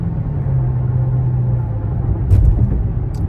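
A Dodge Charger Hellcat's engine drones steadily with low rumble as its wheels spin on a mostly dry road, swelling briefly louder near the end.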